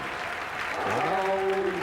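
Crowd applause at the 1990 Indianapolis 500, a steady wash of clapping from a large audience, with a sustained sung or tonal line rising over it.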